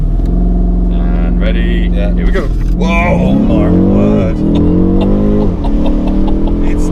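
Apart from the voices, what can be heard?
BMW M850i launch, engine and exhaust roar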